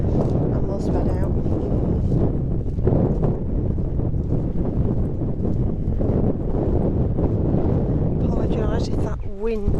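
Strong wind blows steadily outdoors around the medieval area of Wainfleet St Mary, roaring across the microphone for the whole stretch with a constant loud rush while someone talks over it.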